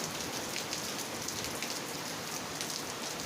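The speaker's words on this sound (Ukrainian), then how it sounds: "а сьогодні ось така злива капітальна" A heavy downpour falls steadily on a vineyard and garden plot, a dense, even hiss of rain close by with no voices.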